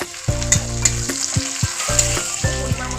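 Tomato tipped into a pan of fried onion and ginger-garlic paste for aloo dum, sizzling loudly up close while being stirred in short, repeated bursts, with no voices.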